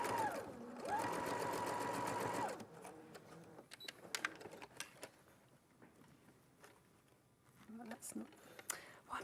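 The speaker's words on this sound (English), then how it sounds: "Why am I sewing in the wrong place?" A sewing machine stitches pinned, starched fabric in a short, steady whirring run of about two seconds, followed by quiet handling noises and someone talking softly nearby.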